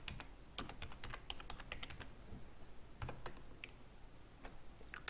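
Someone types a file name on a computer keyboard, producing a quick, irregular run of light key clicks, close and fairly quiet, with no speech.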